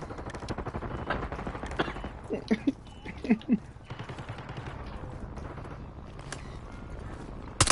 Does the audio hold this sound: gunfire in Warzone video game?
yes